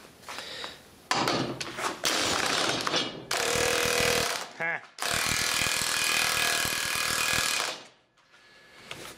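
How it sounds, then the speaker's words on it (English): An impact wrench hammers loudly in long sustained bursts, up close, as it works a tight, semi-new nut, with short pauses between runs and brief talk near the end. "that's a pretty good rattle gun"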